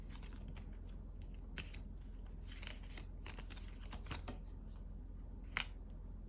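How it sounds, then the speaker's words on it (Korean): Tarot cards are shuffled and drawn, giving quiet papery riffles and soft snaps at intervals over a low steady hum. "그러면 추가 조언 카드를 한 번 더 뽑아보죠."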